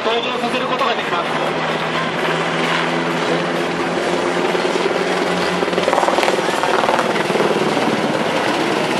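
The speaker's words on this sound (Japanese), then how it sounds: "このヘリコプターは最大13名を搭乗させることができます。" A military helicopter at a Ground Self-Defense Force training display at Naha camp gives off a steady, loud rotor-and-engine drone throughout, with a voice speaking over it.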